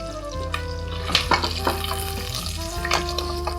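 Almonds and raisins fry in oil over a low flame for a dry fruits pulao, crackling and sizzling steadily up close, with occasional sharper pops and spatters.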